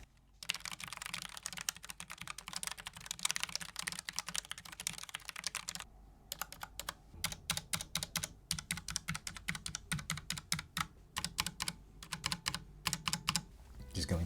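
A Keychron K8 mechanical keyboard with brown switches clacks under steady typing in fast, close, crisp key presses. After a brief pause the typing resumes in quick bursts.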